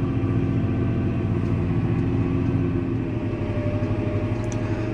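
A vibrating roller compactor rolls over freshly wet garden soil, giving a loud, steady engine drone with a deep throbbing rumble that continues unbroken for the whole stretch, with no voices.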